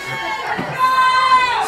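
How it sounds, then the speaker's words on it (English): Cheerleaders cheer at a cold-weather high school football game, a bright sustained shout rising over broad crowd noise and stadium chatter, with voices talking throughout. "They're out there in the cold cheering their hearts out as well."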